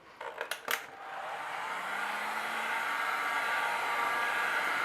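A heat gun warming a decorative resin moulding gives a steady, loud, close airflow roar. It follows a few sharp clicks as it starts up and holds a constant hiss to the end.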